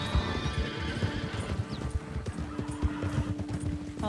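Horses in Red Dead Redemption 2 clop steadily on hooves at close range, with a high whinny rising over the rhythmic footfalls and soft game ambience beneath.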